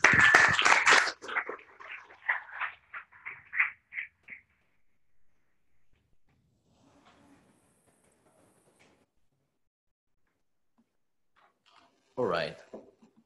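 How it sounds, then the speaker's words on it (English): An audience applauding a speaker at a talk, a burst of clapping that thins out over about four seconds, followed by quiet and then a voice speaking. "So a round of applause for Jeb"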